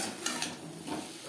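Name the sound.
stirring cauliflower with vegetables in a pan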